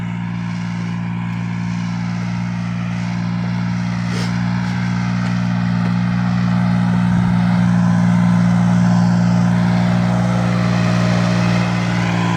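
Loud, steady diesel engine drone with a strong low hum, close by and unbroken, from a three-cylinder Japanese Iseki Kata 1700 tractor running a 1.3-metre rotary tiller through damp soil.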